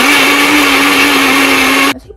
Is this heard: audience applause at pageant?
no